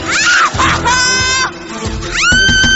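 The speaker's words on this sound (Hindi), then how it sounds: "हमें अचानक किसी के चीखने की आवाज सुनाई दी।" Loud, high-pitched screams rise and break repeatedly behind a closed door, with strained shouting voices overlapping in a tense, close burst of cries.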